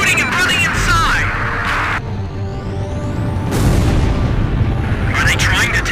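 Gunfire and booming explosions from the PS2 combat game Ace Combat 5, loud and continuous with sweeping whooshes and bursts, game voices and effects mixed throughout.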